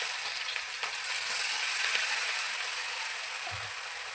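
Finely chopped green chillies frying in hot oil for sabudana khichdi make a bright, constant hiss and crackle at close range, with a soft knock near the end.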